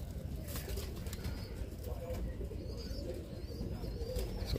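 Birmingham Roller pigeons coo steadily in low, soft rolling calls, with a few higher chirps overhead, as someone talks nearby.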